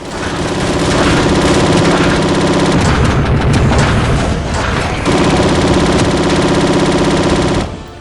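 Sustained rapid gunfire from the Freeblade light gun shooter video game, a dense, loud barrage of automatic shots and booms running almost the whole time, briefly easing before ending abruptly.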